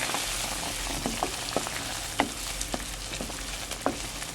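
Sautéed mung beans are stirred in a hot pan, giving a steady close sizzle broken by scattered soft clicks and scrapes of the utensil against the pan.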